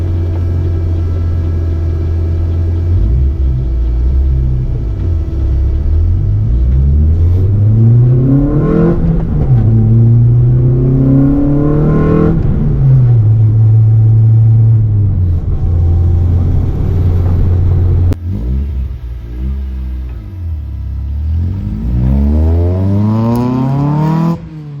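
An SR20 turbo-converted Datsun 200B SSS is driven, its engine loud and close, swelling through repeated revs and gear changes with rising and falling pitch over a steady rumble, no voices present.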